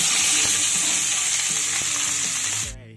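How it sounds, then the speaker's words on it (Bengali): Boiled green jackfruit fries in hot oil, a loud steady sizzle with soft utensil knocks and stirring, cutting off abruptly near the end. "এবার আমি ওই তেলেই সেদ্ধ এঁচোড়টাকে ভেজে নেব"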